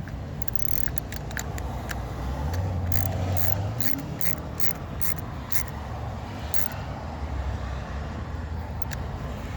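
A wrench tightens a battery terminal on a 2015 VW GTI S 2.0 Turbo, giving a series of quick ratcheting clicks in bursts over a low steady background hum, close and fairly clear.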